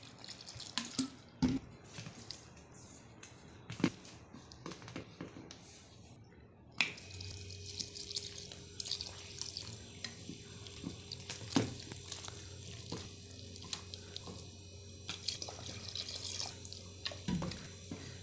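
Quiet, close clinks and taps, then water pours steadily into a bowl of millet flour for several seconds, with occasional small knocks.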